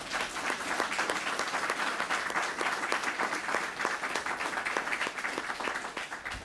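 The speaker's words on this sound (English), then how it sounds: "Let's give our candidates a round of applause." An audience at a city manager candidate forum applauds the candidates with steady clapping from a modest crowd, individual claps audible within the continuous patter, moderately loud and lasting several seconds without speech.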